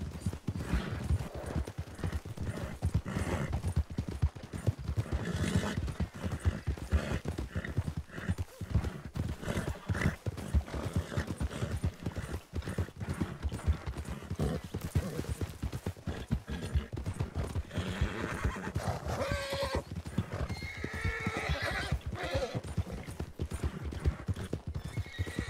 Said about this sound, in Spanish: Se me hace raro ver tantos caballos.